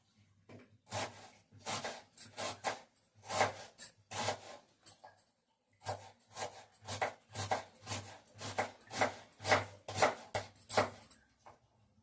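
Knife scoring a sand whiting fish for curry, a steady series of short, crisp rasping strokes close up, in two runs separated by a brief pause.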